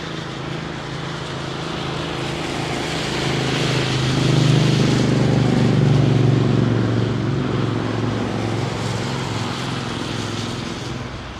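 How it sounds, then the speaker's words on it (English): An airliner landing on runway 27R at London Heathrow with the throttles pulled back, its engine roar heard as a broad, steady rumble that swells toward the middle and eases off. "Here where they pull the throttles back, drop the power completely"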